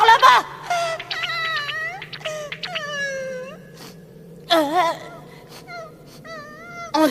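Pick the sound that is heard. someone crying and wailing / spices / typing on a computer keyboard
someone crying and wailing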